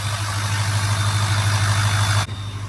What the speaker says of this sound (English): The whistle of the turbo is back after we fix that up pipe.